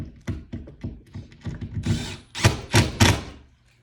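Power drill driving screws into an IKEA floating shelf bracket on a wall, a series of short close bursts and thunks, ending in three louder whirring pulls before fading out.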